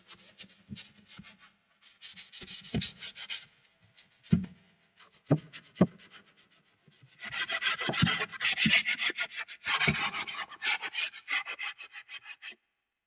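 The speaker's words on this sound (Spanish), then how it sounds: "lo que tenemos que hacer es lijar el puro borde" Hand sanding the edge of a wooden bookshelf, with bursts of brisk scratchy rubbing broken by pauses and a few sharp knocks.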